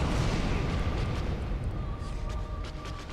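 An explosion in Dark Souls during the Quelaag fight bursts loud and rumbling, then fades slowly over a few seconds, with no talk over it.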